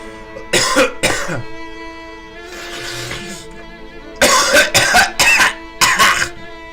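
Harsh, loud coughing from one person on a live stream, several bursts: two quick coughs, a softer wheezy breath, then a run of four forceful hacks close to the mic.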